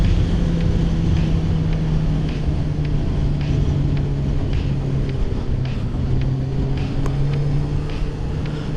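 A Honda Hornet 600 motorcycle engine drones steadily while being ridden on a twisty road, a constant low hum held in the rev range and heavily buffeted by wind noise.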